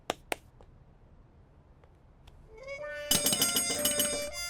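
A doorbell rings at a house entrance, a few sharp taps first, then a bright electronic chime tune that rises and plays on loudly and close for a couple of seconds.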